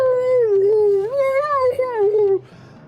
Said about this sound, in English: it's a wolf howling